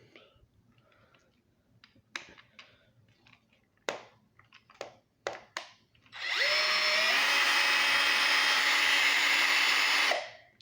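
Scattered clicks and handling noises, then a new Harbor Freight power drill whirs loudly and steadily for several seconds before stopping.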